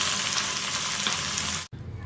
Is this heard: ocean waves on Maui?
no